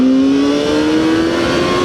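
A ZXJC 500RR motorcycle engine revs loudly and steadily at high RPM, a sustained rising whine with strong harmonics that climbs slightly over two seconds, close and alone with no talk.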